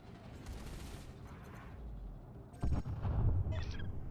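Rapid incendiary gunfire from a ship in Elite: Dangerous, a dense continuous rattle of shots that grows louder and heavier partway through, with no talking.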